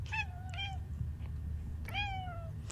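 A cat meows three times, the first two in quick succession and the third longer and drawn out after a pause, close and clear over a low background hum.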